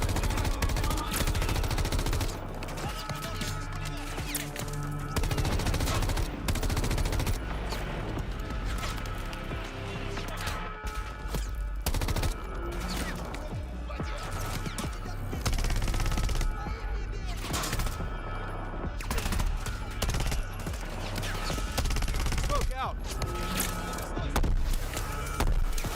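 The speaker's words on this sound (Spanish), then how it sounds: "ya empezó la ensalada de tiros. Esto es Call of Duty, a fin de cuentas" Call of Duty trailer combat with heavy, continuous automatic gunfire and fusillades, dense overlapping shots and impacts over a loud battle backdrop for the whole stretch.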